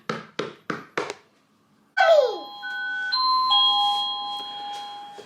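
A household doorbell chime sounds as the electricity returns during Storm Eunice, ringing out a clear sequence of sustained electronic tones. It follows a few quick knocks or thumps, close by and with no talking.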